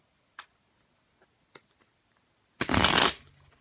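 Tarot cards are shuffled in one quick riffle near the end of a quiet room, preceded by a couple of faint taps or clicks.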